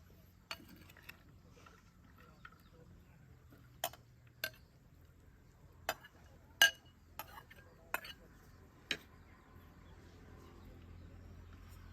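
Dishes and cutlery clinking as larb is plated at a campsite by the Mekong River, sparse sharp clinks and taps scattered over a very quiet background.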